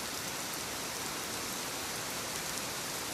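Steady, even rain falling without pause, a dense wash of drops at a moderate, constant level with no voices or other sounds.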